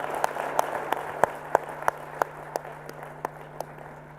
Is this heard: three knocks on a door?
no